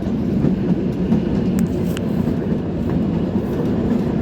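The Kalka-Shimla narrow-gauge toy train, the Shivalik Express, rolls along with a steady close rumble and faint rail clatter, heard continuously with no voices.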